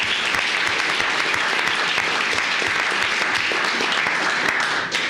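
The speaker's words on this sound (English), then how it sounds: "let's give Patricia a big round of applause" Audience at a county commissioners court meeting gives steady, dense applause for an honoree, continuous clapping throughout at close range with no speech.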